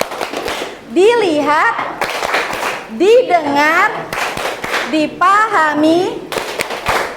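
Rhythmic group clapping in a "tepuk fokus" clapping ice-breaker: bursts of crisp claps in short patterns alternate with a voice chanting words between them, close and loud.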